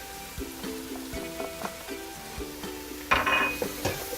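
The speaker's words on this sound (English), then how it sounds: "Stir garlic in 2." Garlic is stirred as it fries in hot oil alongside mushrooms for a risotto, a low sizzle with repeated scraping strokes and a brighter clink of utensil on pan near the end, close and quiet without speech.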